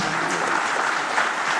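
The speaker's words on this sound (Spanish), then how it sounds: "Por favor, lo recibimos con fuertes aplausos." Congress audience applause welcomes a speaker as a brief burst of dense, even clapping, moderately loud and close throughout.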